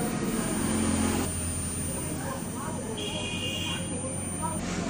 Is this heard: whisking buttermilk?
no